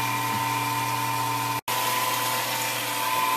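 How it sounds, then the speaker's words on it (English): An electric pump moves hot water from a boil kettle into a mash tun while brewing an all-grain Irish red ale, giving a steady close mechanical hum with a constant whine, broken once by a brief cutout. "I'm going to be transferring the water from the boil kettle into the mash tun"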